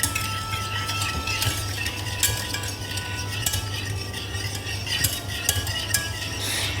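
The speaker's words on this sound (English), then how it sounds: "now I'm gonna whisk it together, one after the other" Butter melting in a pan being whisked, a close metallic whisk scraping and clinking in irregular strokes over a soft background hum, with no voices.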